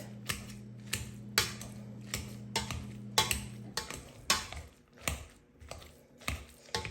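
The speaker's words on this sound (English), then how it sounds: "What we're gonna do is mash the potatoes." Boiled potatoes are mashed in a pot for a Thanksgiving meal. A series of regular, close knocks and soft squelching thuds repeats steadily over a low background hum.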